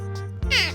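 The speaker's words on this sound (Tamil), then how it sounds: "பூனை எப்படி கத்தணும் உங்களுக்கு யாருக்காவது தெரியுமா?" A cat meows once for a Tamil children's animal-sounds lesson, a short bright call that bends downward in pitch after a moment of quiet over a low steady hum.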